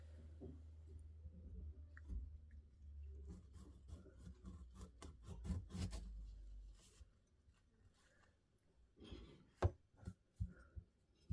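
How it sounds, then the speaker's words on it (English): A knife slicing open a kiwi fruit, giving a few short rasping cuts and crisp scraping strokes close by, with quiet gaps and a couple of sharper taps near the end. "Let's start by cutting open this kiwi."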